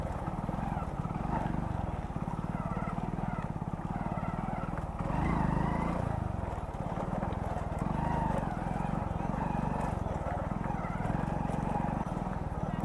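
A motorcycle rides off-road on a rough track toward a hilltop temple, its engine droning steadily and close throughout with bumpy, uneven rumble over the terrain.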